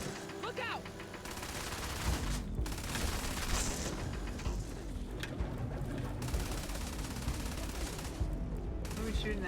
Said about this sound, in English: What are we shooting at?